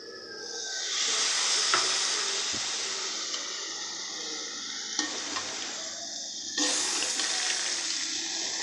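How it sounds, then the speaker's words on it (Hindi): Water sprinkled into a pan of frying sliced potatoes for aloo katliyan gives a loud, close, steady hiss and sizzle that swells at first, eases off, then flares again in a second sharp burst. "अब हम इसमें यहाँ थोड़ा सा पानी ऐड करेंगे"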